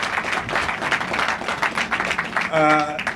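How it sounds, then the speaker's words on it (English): An audience at a ribbon-cutting event for a Tanishq boutique claps for a councilman, a busy crowd patter under voices that swells briefly before a single voice speaks over it near the end. "Give him a round of applause"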